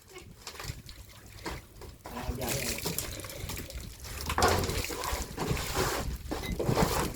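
Water splashes and pours repeatedly while someone is washed with soap, a steady wet sloshing throughout with voices talking over it.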